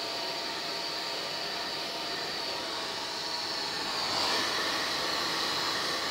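A steady, loud blowing hiss of a hairdryer runs throughout, swelling slightly near the end.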